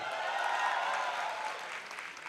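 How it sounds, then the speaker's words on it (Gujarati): An audience at a youth shibir session claps in a brief burst of applause, a soft, dense patter that holds steady and then thins slightly, with no voices over it. "જોરદાર તાળીઓ"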